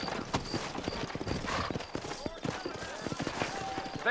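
Horse hooves clip-clop at a steady gallop beneath a rider in a Wild West video game, the rhythmic beats loud and close, with voices talking over them and a brief distant burst of gunfire.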